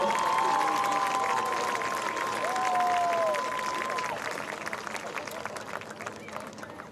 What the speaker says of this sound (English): Let's give a big round of applause for the class of 2025